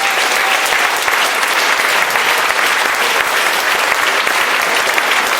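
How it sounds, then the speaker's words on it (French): A live audience at a recorded podcast event claps politely, a dense, even wash of many hands held at a steady level throughout, with no speech over it. "Ça, c'est des applaudissements polis"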